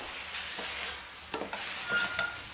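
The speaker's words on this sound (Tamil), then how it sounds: "தக்காளி வதங்கும் போதே ஒரு எட்டு பீஸ் முந்திரி சேர்த்துக்கலாம்" Tomatoes frying in a pan with green chillies and cashew pieces, a steady close sizzle with a few stirring scrapes and clatters of a spoon against the pan.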